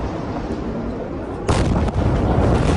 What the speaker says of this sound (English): an explosion ripped through Beirut's port.